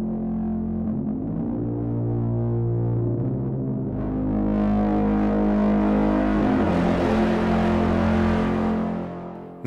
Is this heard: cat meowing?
no